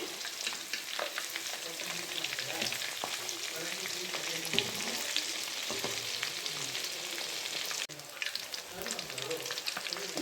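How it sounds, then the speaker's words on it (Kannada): Crispy kababs deep fry in hot oil with a dense, continuous sizzle and crackle. Bubbling and popping run steadily close by, with only a brief dip partway through. "ಚೆನ್ನಾಗಿ ಡೀಪ್ ಫ್ರೈ ಆಗ್ತಾ ಇದೆ ಕಬಾಬು"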